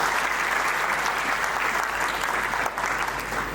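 Audience at an AEG event in Ahmedabad clapping for parents, teachers and students, a dense, steady round of applause filling the hall at close range, with no pause or talking.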